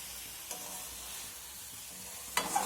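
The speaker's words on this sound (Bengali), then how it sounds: "এখন আলু আর সয়াবিনটা মশলার সঙ্গে একটু কষিয়ে নেব।" Fried potato and soybean are stirred in masala in a pan, producing a soft continuous sizzle with a couple of distinct spatula knocks against the pan.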